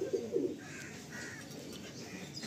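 Pigeons coo softly in a loft in Salt Lake, Kolkata, with low rolling calls early on. Faint higher bird calls follow over a steady background hum.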